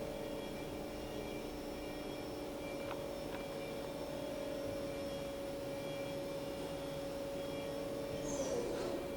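A 2013 Haas EC-400 horizontal machining center spindle runs at 9,000 RPM, giving a steady, moderately quiet whine with a constant tonal hum that holds evenly throughout, with no talking.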